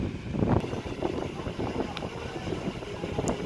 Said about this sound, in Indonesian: Anginnya kencang sekali lur.